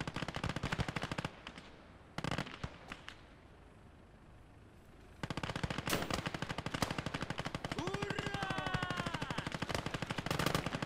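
Rapid rhythmic bursts of a 2 cm Flak anti-aircraft gun on the Eastern Front in Gates of Hell: Ostfront, loud and sustained after a brief lull, with a few whistling shell sounds near the end.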